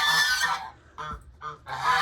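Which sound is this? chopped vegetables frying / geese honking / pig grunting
geese honking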